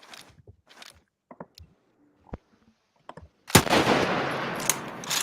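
Video game gunfire: a few scattered sharp shots and clicks, then a loud, dense burst of firing that continues to the end, with no talking.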